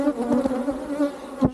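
Honeybees droning steadily in an open hive during a routine inspection of Ruche 3, a swarm spread over five frames, with a constant close buzz and a few louder passes of individual bees near the microphone.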